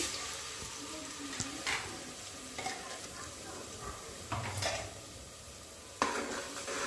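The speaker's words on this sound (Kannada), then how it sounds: "ಇದನ್ನೆಲ್ಲ ಸೇರಿಸ್ಕೊಂಡು ಫ್ರೈ ಮಾಡ್ಕೋತಾ ಇದ್ದೀನಿ ಹಸಿ ವಾಸನೆ ಹೋಗೋವರೆಗೂ" Ground chili paste and spices frying in a pan for tempering village-style bassaru, a low continuous sizzle with a few scraping stirs and utensil knocks, fairly quiet and steady.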